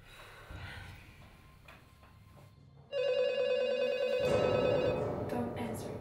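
A telephone begins ringing partway through, a loud, sustained electronic bell tone after quieter background rustling.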